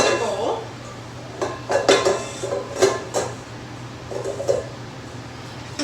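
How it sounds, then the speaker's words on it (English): A mixing bowl being grabbed and handled in a kitchen while making triple lemon cupcakes: close, irregular clinks, knocks and clatters of bowls and utensils in short bursts over a low steady hum. "Grabbing another bowl."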